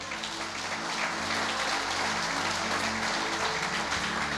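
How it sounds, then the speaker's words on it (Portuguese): A church congregation applauds the Lord during a worship service, dense sustained clapping with a low musical hum beneath, swelling slightly as it goes on. "aplauda o Senhor."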